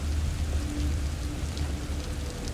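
Steady rain from the horror video game The Evil Within, a dense continuous hiss of falling water with low rumbling underneath, constant and fairly loud throughout, with no talking.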